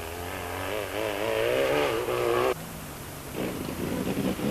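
A race car engine, running rough during a 1995 race, revs with a wavering, uneven roar, then drops suddenly to a rougher, sputtering note.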